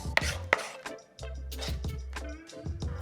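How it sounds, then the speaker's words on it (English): A knife chops soft roasted garlic on a cutting board, with a few sharp taps followed by a steady, close rocking and scraping against the board and no talking. "you can squeeze it out and finally chop it up so we can mix it in with our butter a little easier."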